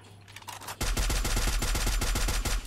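Automatic gunfire in the battle-royale game Free Fire: after a quieter lead-in, a sustained rapid burst of shots rattles loud and steady for nearly two seconds.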